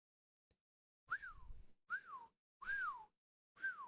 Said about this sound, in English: Whoever decided to add the whistling effects to that was smart.